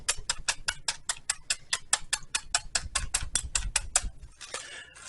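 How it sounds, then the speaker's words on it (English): A knife point jabs again and again into a plastic bag, about twenty sharp, evenly spaced pops in quick succession, close and crisp, ending with a short rustle of the bag. "I'm just going to get a knife point, and I'm just going to poke a bunch of holes"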